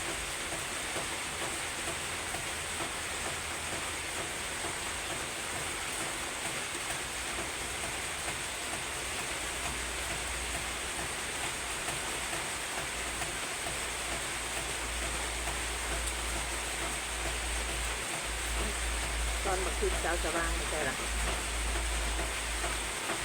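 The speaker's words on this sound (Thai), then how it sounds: "ถ้ามาฟังเสียงฝน" Steady rain pours outside a rural Isan kitchen in northeastern Thailand where khi lek curry is being made, a dense continuous hiss with low rumble that swells slightly near the end, heard alone.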